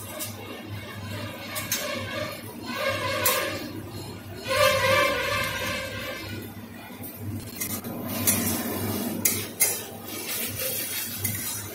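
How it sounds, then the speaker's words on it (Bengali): Onion and tomato stir-frying in a pan for a pointed gourd curry, with soft sizzling and intermittent scraping and clinking of a spatula against the pan, close and fairly quiet. "পেঁয়াজ আর টমেটোটাকে ভালো করে একটু কষে নেব 3-4 মিনিট সময় ধরে"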